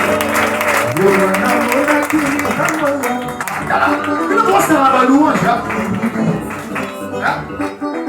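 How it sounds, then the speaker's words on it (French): A church congregation applauds and claps together during worship, a loud sustained wash of clapping mixed with voices and music throughout. "Acclamons pour la gloire de Jésus."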